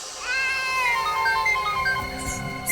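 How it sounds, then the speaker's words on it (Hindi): A phone ringtone in a Hindi crime drama plays a bright electronic melody of repeating tonal notes, loud and steady with no talk over it. "एसीपी साहब का फोन।"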